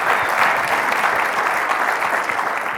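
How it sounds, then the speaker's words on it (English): An audience at a 2014 Entrepreneurs' Organization event bursts into loud, dense applause that stays strong for about three seconds before starting to ease. "Give him a big round of applause."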